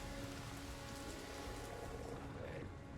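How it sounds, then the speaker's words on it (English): Steady rainfall in The Witcher 3 game world, a dense continuous hiss of drops falling on surfaces, even and unbroken throughout with no voices. "Looks like rain."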